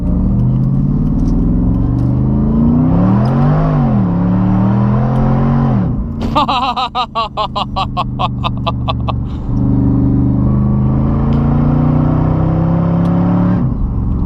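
A Mercedes SLR McLaren engine revs hard at full throttle through the gears from a standstill, pitch climbing repeatedly with brief drops between shifts, loud and close from inside the car.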